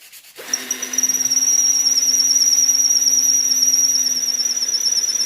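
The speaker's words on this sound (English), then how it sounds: "I need to sharpen my drill bit." A drill bit is ground against a sharpening wheel, starting with a short clatter and then settling into a sustained, loud, high-pitched metallic whine that holds steady for several seconds.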